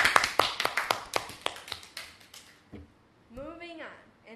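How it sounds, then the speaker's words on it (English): Sharp, evenly spaced claps from a small group at a school drama performance, about ten crisp strikes in a steady rhythm that thin out and fade, followed by a brief voice speaking. "A round of applause"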